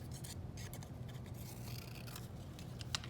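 Scissors snip and scrape along the edges of a cut fabric piece for a seascape project, a soft, close, continuous rasp with small clicks, quiet and without talk.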